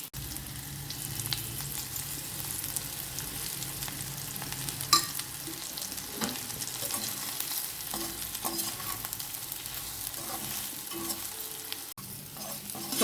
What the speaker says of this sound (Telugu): దొండకాయలు బాగా వేగిపోయినాయండి. ఇప్పుడు ఉప్పు కారం వేసేసి కలుపుకోవాలి